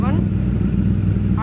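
Honda CBR1000RR sport bike idling, its exhaust a steady, loud low rumble held throughout, close by, with a brief rising rev tone at the start and end.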